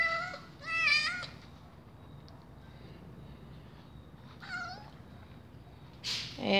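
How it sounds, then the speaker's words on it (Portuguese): A young cat meows several times, high and plaintive, with quiet pauses between cries and a faint background hum. "é um gatinho"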